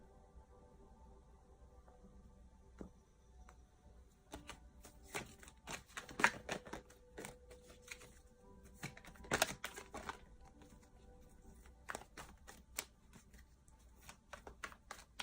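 Crisp clicks and riffling snaps of tarot cards being cut and shuffled, with bursts of rapid flicking and a few sharper slaps, close to the microphone.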